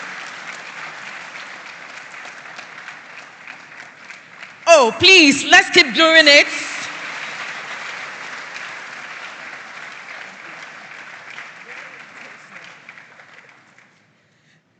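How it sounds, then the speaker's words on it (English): Sustained applause from an audience welcoming the chairperson at a school farm awards grand final on a university campus, a steady broad wash lasting most of the clip, with a louder burst of voices and cheering partway through and speech over it. "Ladies and gentlemen, with a round of applause, let's welcome the chairperson, Madam Pearl Coleman Aka"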